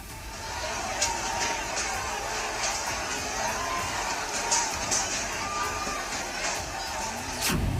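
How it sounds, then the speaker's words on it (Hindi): An angry crowd riots, a dense wash of shouting and yelling voices rising and falling without pause, with sharper cries standing out now and then. "गुस्साई भीड़ ने अंदर जमकर तोड़फोड़ की।"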